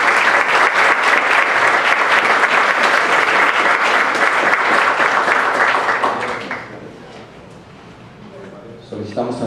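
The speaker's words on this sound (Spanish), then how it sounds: "Brindemos un fuerte aplauso, por favor." Audience applause at an assembly of a historical society in Nuevo León, a dense, sustained clapping from a crowd for about six seconds, then fading to a quieter room murmur with a brief sound at the end.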